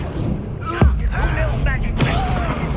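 A Confringo fire spell bursts in Hogwarts Legacy, a hard thump followed by a second impact about a second later, both riding over steady game ambience and scattered voices.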